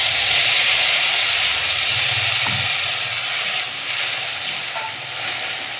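Okra cooks with turmeric in a pan as water is added, giving a steady, close hiss and sizzle of steam that runs throughout, with a few faint stirring clinks and no talking.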